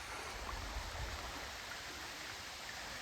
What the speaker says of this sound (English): I think this is the Trap Falls that they're talking about up here